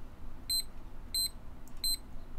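A Thermco thermometer sounding its high-temperature alarm: three sharp pairs of high electronic beeps in an even repeating rhythm, clear and close over a quiet background.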